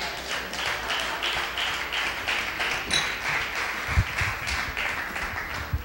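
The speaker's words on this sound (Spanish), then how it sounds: "¿Cuántos aplauden?" A church congregation applauds in a steady, dense wash of many hands clapping together, sustained and fairly loud in a reverberant hall, with no speech over it.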